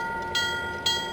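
A train passes in a railroad simulator game, with a steady tonal rumble and two brief bursts of brighter rail noise, heard alone at moderate loudness.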